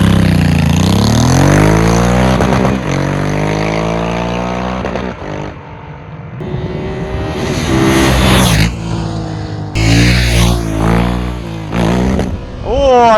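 Honda Africa Twin motorcycle fitted with a full exhaust system, revving loud and close with rising and falling throttle blips and a strong pull in first gear, its engine note sweeping up and down almost continuously.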